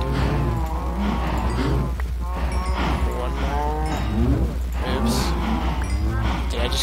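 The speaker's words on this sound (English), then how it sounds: "Because there's a lot of cows here." Cows in the video game Minecraft moo repeatedly, several overlapping drawn-out calls close by, with a person talking over them.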